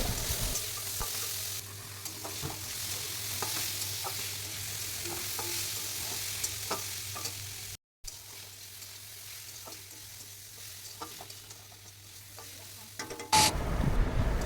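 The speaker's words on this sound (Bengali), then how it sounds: "এবার আমি ডুমুরটা অ্যাড করে দিলাম। তো এটাকেও আমি খুব ভালোভাবে লাল করে ভেজে নেব।" Potato and fig pieces fry in a hot pan with a steady, close sizzle. Light stirring clicks come through now and then, and there is one brief break near the middle. No one speaks.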